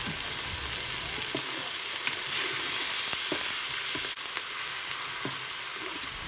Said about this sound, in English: now we're just going to add in some extra butter just to fry off the garlic a little bit